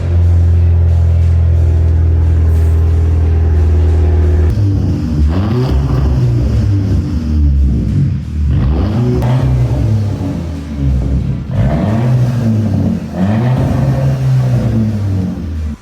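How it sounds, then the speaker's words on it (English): Turbocharged Audi TT engine running inside a shop, a loud steady idle that swells into repeated revs with rising and falling pitch, echoing close by. "the characteristic sound of the turbo engine echoing through the shop"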